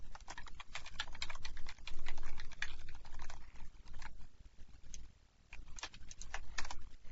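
Rapid clicking keystrokes on a computer keyboard, close and fairly quiet, in uneven bursts with a brief pause near the end.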